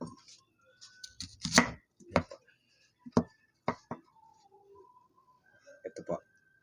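A knife chops through an onion in a series of sharp, irregular cuts against a board, close and crisp, while a person talks between and over the strokes.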